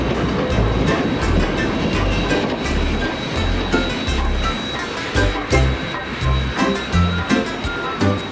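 A passenger train rolls along the rails toward Battle Creek, Michigan, a steady rumbling clatter with repeated low thumps of wheels over track joints, continuous and fairly loud throughout.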